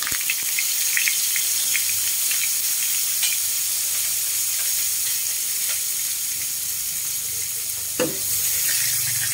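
Dried salted fish (tuyo) fries in hot oil in a pan, giving a constant close sizzle with scattered pops and a sharper spatter near the end.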